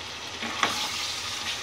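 Boneless chicken pieces fry in oil in a pan, giving a steady close hiss with one sharp spatter or utensil clack near the middle and no voices.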